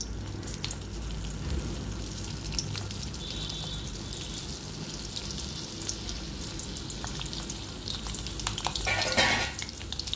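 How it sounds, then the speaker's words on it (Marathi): Stuffed round gourd (tinda) fries in oil with mustard seeds, a constant close sizzle and crackle that stays level throughout, with a brief rattle of cookware near the end. "मोहरी तडतडली की आपल्याला त्यामध्ये ढेमसं घालून घ्यायचं आहे."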